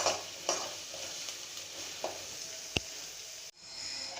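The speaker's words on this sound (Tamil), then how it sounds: "கொஞ்சம் அந்த கிளாஸி டெக்ஸ்சர் வர அளவுக்கு ஆனியன்ஸை வந்து நம்ம கொஞ்சம் ஃப்ரை பண்ணி எடுத்துக்கணும்" Onions frying in a pan until glassy, a soft, fairly quiet sizzle with a few stirring knocks and one sharp clink near the end, no one talking.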